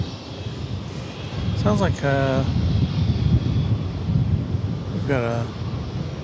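Airliner at DFW airport during morning plane spotting, a steady broad jet engine roar rising and holding through the clip, with a voice talking over it.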